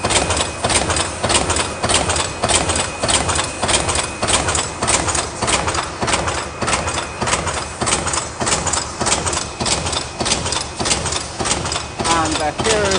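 An automatic paper cup lid cover making and packing machine runs with a steady, fast repeating mechanical beat, loud and even throughout, with a brief change near the end.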